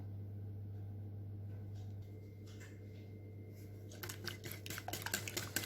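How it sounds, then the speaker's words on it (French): Apple compote and chocolate are mixed in a bowl for a brookie, at first as quiet scraping over a low steady hum, then as sharper clinks and scrapes of a utensil against the bowl. "on va mélanger la compote avec le chocolat"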